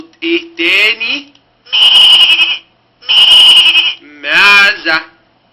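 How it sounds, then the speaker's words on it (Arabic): Close, loud bleating from a farm goat: several quivering cries in a row, the first ones short and choppy, the later ones long and sustained, with brief silences in between. "معزة."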